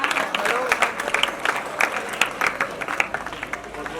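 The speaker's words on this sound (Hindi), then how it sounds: "इसके लिए जोरदार तालियां।" Loud applause breaks out at a school teacher's retirement programme as guests are honoured on stage, many hands clapping in a dense, uneven patter with voices heard over it.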